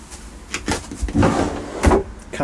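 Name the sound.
caravan kitchen drawer and cupboard being opened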